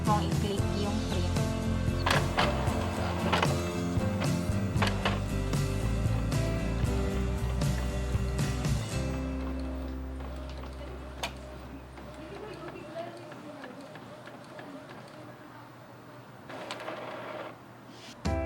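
An Epson EcoTank L3210 inkjet printer prints a page with steady mechanical whirring and rhythmic clicking of the print head, loud over background music, then ends in quieter feed noise with a few brief clicks.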